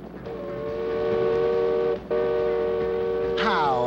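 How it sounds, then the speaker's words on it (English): A long, steady tonal whistle, blown to raise a bridge in a cartoon, sounds loudly, breaks off briefly, then resumes before a rising, wavering tone at the end. "I just blow the whistle and the bridge raises right up."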